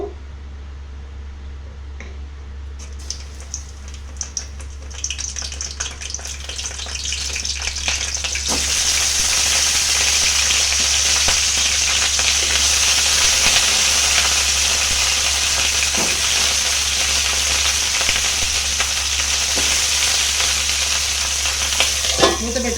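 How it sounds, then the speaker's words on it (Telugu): Oil sizzles loudly and steadily in a pan after eggplant pieces go in, a constant close frying hiss with faint crackles and no voices. "ముందుగా మనము తీసుకున్న వంకాయలను ఫ్రై చేసుకుందాము"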